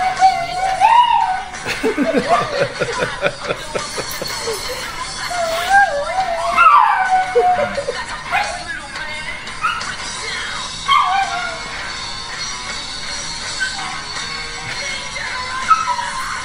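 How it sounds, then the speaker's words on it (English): A dog barks, yips and whimpers in short bursts over about sixteen seconds, close and fairly loud, with some laughing and voices mixed in around it. "That was my dog"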